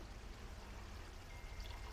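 Cornstarch slurry is poured into boiling chicken adobo sauce, a steady liquid pouring with a continuous watery stream sound, fairly loud and unbroken, no voices.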